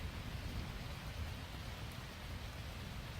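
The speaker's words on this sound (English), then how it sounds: "now we get to fall asleep to the soothing sound of rain" Steady rain falls on tarps at a forest campsite, a soft, even hiss of dense drops pattering without pause, faint and close, with no voices.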